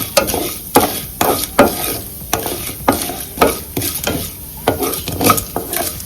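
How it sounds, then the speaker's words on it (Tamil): Mustard seeds and urad dal fry in oil, a hissing sizzle broken by regular scraping spoon strokes against the pan, close and fairly loud, with no voices. "இதுல கடுகு, உளுத்தம்பருப்பு போட்டாச்சு. இது நல்லா ஃப்ரை ஆகட்டும், நல்லா வதங்கட்டும்."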